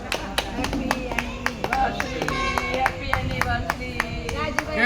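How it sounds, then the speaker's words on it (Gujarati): A group of pilgrims claps hands on Omkareshwar road while sharing shrikhand. The sharp, rhythmic claps repeat close by, mixed with lively voices talking. "તાળી પાડો ભાઈ"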